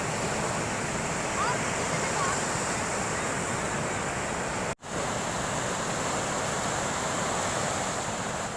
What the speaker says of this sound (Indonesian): ombak besar dengan ketinggian berkisar 3 hingga 4 meter terpantau melanda pesisir sepanjang pantai